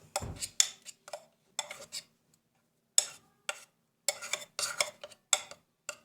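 Boiled eggs being mashed in a bowl for bird egg food, heard as sharp, intermittent clicks and scrapes of a utensil against the dish, close and quiet, with silent gaps between strokes.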